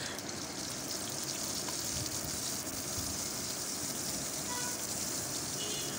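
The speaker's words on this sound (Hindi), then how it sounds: "अब इसे थोड़ा गर्म होने देंगे हम ऑयल और मक्खन को" Oil and butter heat in a pan for a dal tadka, giving a steady, close sizzling hiss that runs evenly throughout with no pauses.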